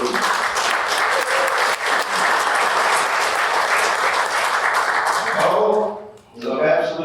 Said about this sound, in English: Also a round of applause to the staff at Middle River for hosting us and preparing a wonderful meal.